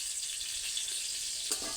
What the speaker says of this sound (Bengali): সেটা দিয়ে ভাজছি বেগুন।